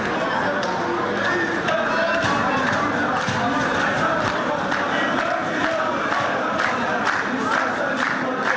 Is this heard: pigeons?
no